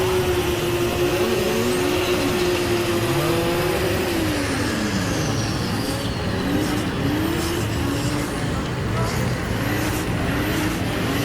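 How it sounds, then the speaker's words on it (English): A Nissan 350Z drift car at a British Drift Championship pro-am round warms its rear tyres, its engine droning loud and steady with pitch sweeping up and down as it revs. "Chris Wright warming up the tyres on the back of that Nissan 350Z"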